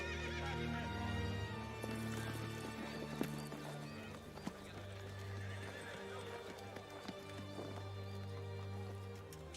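A horse whinnies amid clopping hooves in a fantasy action film scene, set against a sustained musical score, with the neighs standing out clearly over the low background.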